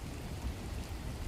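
Rain falls on windows in a dense, even hiss and patter, a constant wash of drops without pauses or voices.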